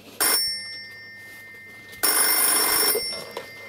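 An old-style telephone bell rings in two loud bursts, a brief ring then a longer one after a pause, close and alone with a faint hum beneath.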